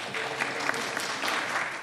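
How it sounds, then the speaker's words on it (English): Sustained applause fills a legislative chamber after a marriage bill passes, a dense, steady wash of many hands clapping with no break across the moment. "That applause echoing across the country"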